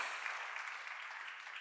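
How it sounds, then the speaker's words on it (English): A conference audience at a health security event applauds, an even, dense wash of clapping held for a short moment at moderate level without any voices. "So, round of applause, please."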